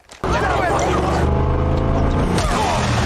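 Truck engine in a movie scene, a loud steady mechanical roar that swells in suddenly and holds close and heavy throughout, with a faint rumbling undertone; no talking.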